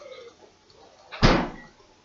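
A household fridge door swings shut with a single soft, muffled thud after a brief quiet pause, heard close up with no one speaking.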